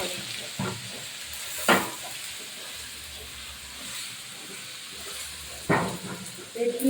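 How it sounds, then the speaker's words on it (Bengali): Mutton masala fries in a pan with turmeric, chili powder and salt, a soft steady sizzle broken by a few sharp clatters of stirring. "হাত চামচ হলুদ গুঁড়ো হাত চামচ লঙ্কা গুঁড়ো হাত চামচ লবণ দিয়ে আর একটু ভালো করে মশলাটা কষাবো"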